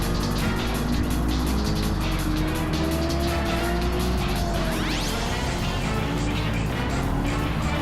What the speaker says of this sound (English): I think Siegfried just made a little bit of contact with Thrasher